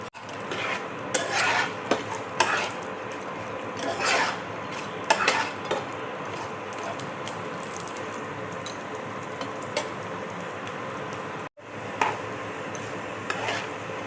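Pumpkin seeds, cashews and almonds are roasted in a pan with a spatula, giving repeated scraping and clinking strokes over a faint, steady sizzle, close and fairly loud.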